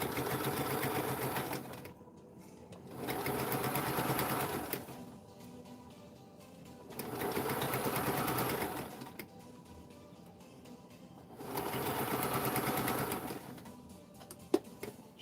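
Sewing machine stitching a dress form cover, running in four steady bursts of a couple of seconds each with short quiet pauses between, close and fairly quiet.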